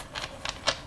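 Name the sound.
spreading a deck of playing cards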